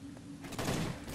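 Gunfire aimed at zombies in Left 4 Dead 2 running a Silent Hill mod, a brief burst of shots rising midway over a low game hum, with no talk.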